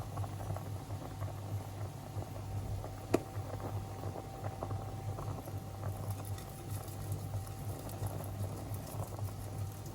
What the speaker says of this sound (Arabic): هخليهن يتحمسن في الزيت شوية عشان يطلع عن النكهة بتاعتهن